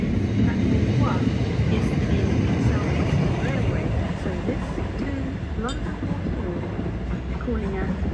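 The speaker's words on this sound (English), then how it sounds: "The next train to Guildford platform 1 is the Southwestern Railway service to London Waterloo." A Southwestern Railway train bound for London Waterloo at Raynes Park station, a loud continuous low rumble of wheels and carriages rolling through, with station announcement speech over it.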